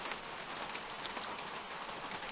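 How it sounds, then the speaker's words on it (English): Rain patters steadily on a trail shelter, a faint, even hiss of drops with a few slightly sharper taps, with no voices heard. "it's just been raining all morning, so we just can't bring ourselves to get out of the shelter."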